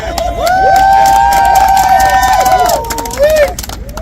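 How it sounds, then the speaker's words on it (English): An audience cheers and shouts loudly at a women's event, with whoops and high voices over a dense crowd roar that swells, then dips, then rises again briefly. "we have got applause for all the women"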